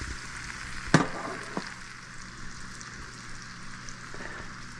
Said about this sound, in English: I'm going to add to this butter, I'm going to add our yams, or our sweet potatoes.